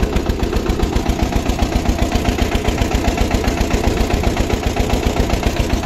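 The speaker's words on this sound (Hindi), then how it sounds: "इतने प्यार से चल रहा है ट्रैक्टर" A John Deere tractor engine runs while driving along a road, a loud, steady, fast low chugging throb that stays even throughout with no voices.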